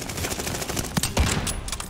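Gunfire rattles in Call of Duty Vanguard on an Xbox Series S, a sustained, loud burst of rapid automatic shots with sharp cracks layered over it, running continuously for about two seconds.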